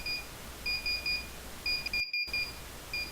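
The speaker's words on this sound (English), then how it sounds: "After the audible alarm is muted," The NV 8000 navigation light system sounds an audible alarm for a failed port navigation light: a faint, high, electronic beeping in short irregular pulses with a brief break partway through.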